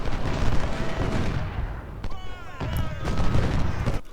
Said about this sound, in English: Don't know what cannon they're using,